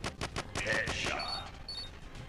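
Rapid bursts of gunfire from the Stickman Gun video game, a quick string of sharp shots followed by ringing electronic game tones, fairly loud and with no talking.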